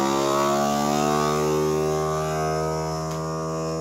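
Vacuum sealer pumping air out of a bag of meat for aging, a steady loud motor drone with a strong hum that runs the whole time.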